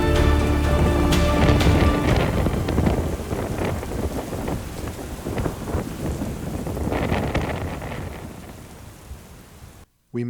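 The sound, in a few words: thunderstorm with rain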